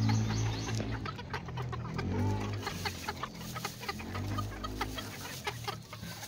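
Chickens being fed, clucking and squawking close by in a busy, continuous chorus of short calls, with a low rumble underneath.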